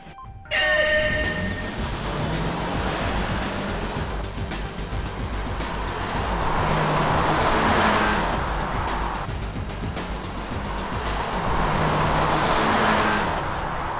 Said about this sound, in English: we arranged a drag race to see just how fast the cars are in the real world